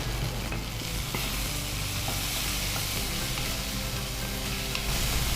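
Ginger and garlic frying in a pan for dal fry, a dense continuous sizzle with occasional stirring clicks, close and steady with no talk over it.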